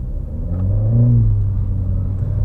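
Skoda Fabia VRS engine with a DSG gearbox revving steadily, a deep continuous rumble swelling slightly around the middle, heard close and loud with no talking.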